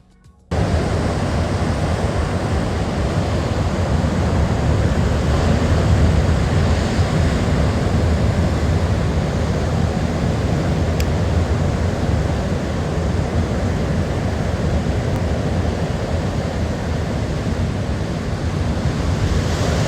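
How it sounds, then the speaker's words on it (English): Ocean surf breaks steadily on a beach, a dense, continuous rushing wash with a low rumble underneath, mixed with wind buffeting the microphone and no voices. "The waves were breaking, the pelicans were flying"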